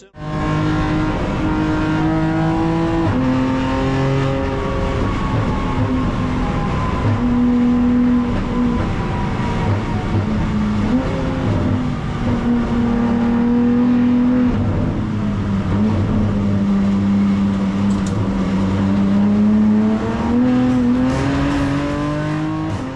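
A BMW M4 GT4 race car laps a wet Sonoma Raceway, its engine droning loud and steady from inside the car, pitch rising and falling through gear changes and corners without a break.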